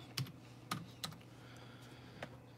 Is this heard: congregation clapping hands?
no